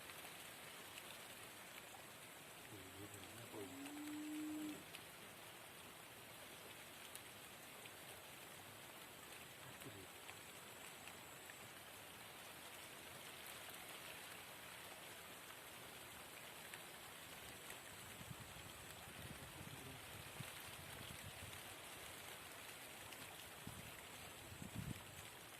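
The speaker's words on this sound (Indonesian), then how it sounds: "Hujan ini. Keadaan hujan." Steady rain falls during a fishing trip, a faint, even hiss of drops that continues throughout, with a brief low tone near the start.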